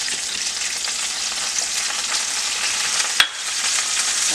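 Whole salmon pieces sizzle loudly in a pan with garlic, a dense continuous crackling hiss with one sharp tap near the end, close and with no talk.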